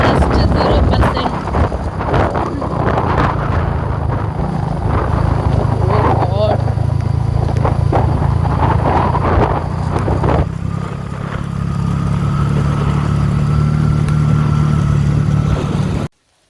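Steady roaring wind buffets the microphone on a motorcycle ride, with a low engine drone running underneath throughout and occasional voices faintly audible beneath the rush.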